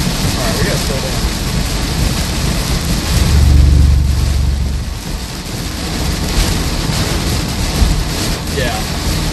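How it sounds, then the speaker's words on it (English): Heavy rain pours steadily in a severe thunderstorm in southwest Iowa, likely drumming on a car with a low thunder rumble swelling midway, loud and continuous with no talk. "we are in a severe thunderstorm warning, guys."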